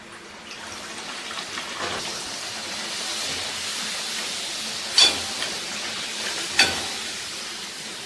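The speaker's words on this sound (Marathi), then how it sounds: "आता इथे व्यवस्थित गरम झालेला आहे आपण पुऱ्या तळून घेऊयात" Puris deep-frying in hot oil on a medium flame give a soft continuous bubbling hiss, with a few sharper pops and spatters standing out partway through.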